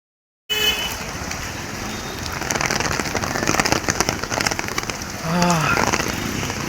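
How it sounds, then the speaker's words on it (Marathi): Heavy rain pours down in a steady, dense hiss, close and loud throughout after a brief silent start, with a short spell of faint background noise near the end. "पाऊस पण खूप आहे"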